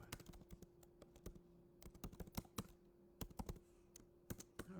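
Keys clack on a computer keyboard in quick, irregular bursts of typing, close and fairly quiet over a low steady hum, with no talking.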